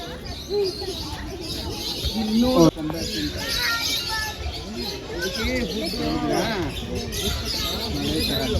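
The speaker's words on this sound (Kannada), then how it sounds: "ಆ ಚಿಲಿಪಿಲಿ ಶಬ್ದನೇ ನಮಗೆ ಎದ್ದು ಕೇಳಿಸ್ತಾ ಇತ್ತು" Birds at Mysore zoo chirp and coo, with some pigeon- or dove-like calls, while people talk throughout in the foreground.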